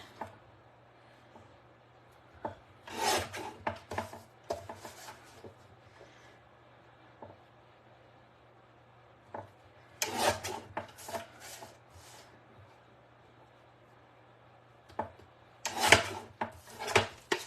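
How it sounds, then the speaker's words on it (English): Paper being trimmed for a craft project, about an eighth of an inch off each side, comes through as three separate clusters of short, crisp cutting and scraping strokes close by, with quiet pauses between them. "what I'm gonna do is just trim it up just a little bit"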